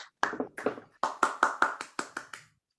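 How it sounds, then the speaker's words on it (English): About ten distinct hand claps at a Toastmasters meeting, fairly regular and close, with no voices. "Let's give her a big round of applause."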